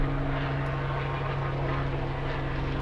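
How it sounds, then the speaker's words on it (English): An aircraft flies over an outdoor metal-detecting dig site in winter, giving a steady low engine drone with humming tones. It stays moderately loud and constant, with no voices. "there's a plane"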